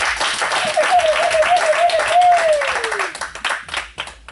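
A church congregation claps together in praise of the Lord during a worship service, a dense burst of applause under a drawn-out singing or calling voice that fades toward the end.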